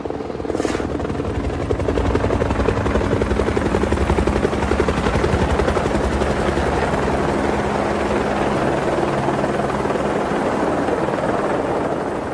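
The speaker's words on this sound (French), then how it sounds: "Des tonnes de terre et de pierre sont ainsi évacuées par hélicoptère" A helicopter airlifts tons of earth and stone from the summit of Mont Saint-Michel, its loud, steady rotor drone and engine whine filling the air without letup.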